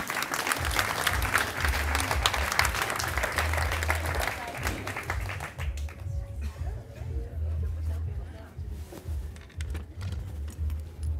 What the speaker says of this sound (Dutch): even een applaus voor deze man.